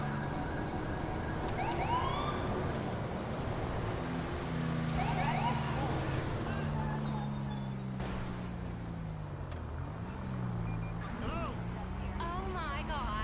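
Police and ambulance sirens in GTA 5 wail and sweep continuously at a fair distance, rising and falling throughout, with someone talking over them and a busy emergency scene around.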